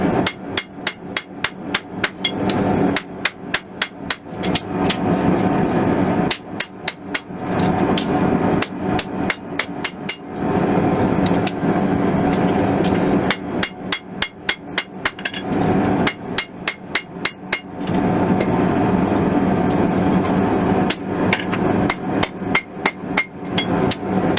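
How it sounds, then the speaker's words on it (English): Repeated sharp strikes of a hammer's flat face on a steel knife blade being forged come in rapid bursts separated by short pauses, loud and close, with a ringing metallic edge. "Switch it to the flat part of my hammer."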